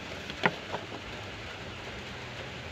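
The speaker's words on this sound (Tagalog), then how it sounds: "Umuulan dito sa amin." Steady rain falling on a cold morning, a continuous even hiss with a couple of brief louder drips or taps near the start and no talk.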